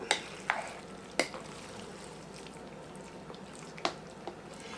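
A thick mass of cheesy chicken spaghetti made with home-canned chicken is stirred in a pot, giving soft wet squishes and a few sharp scraping clicks over a faint sizzle, close and quiet.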